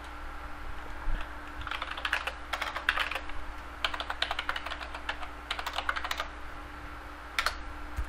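Clicks of a computer keyboard in bursts of quick keystrokes, close and clear over a faint steady hum, with no one speaking.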